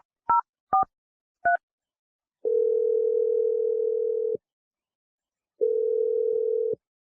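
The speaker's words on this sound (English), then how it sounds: "I'm going to dial the phone number." A telephone dials a number with three short keypad tones, then plays two long, steady ringback tones separated by a pause, clear and close with no talking.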